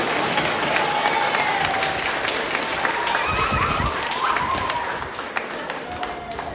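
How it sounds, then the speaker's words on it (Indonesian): Steady applause from a congregation gathered to welcome a priest at his first Mass in a chapel, a dense, continuous wash of clapping that thins slightly toward the end, with faint voices mixed in. "Saya minta kita tepuk tangan boleh untuk kita sekalian"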